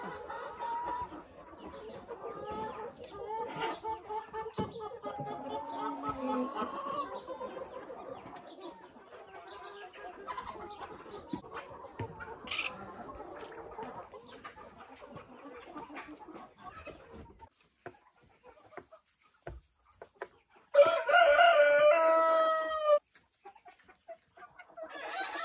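Hens and a rooster in a henhouse, clucking softly and intermittently at a distance, then a sudden loud burst of squawking and cackling close by near the end, with a few quiet bumps and rustles.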